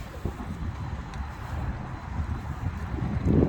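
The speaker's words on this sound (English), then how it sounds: "But it's windy" Gusty wind buffeting the microphone outdoors beside a 2022 Cadillac CT4-V Blackwing, a low, rough roar that rises and falls and swells louder at the end.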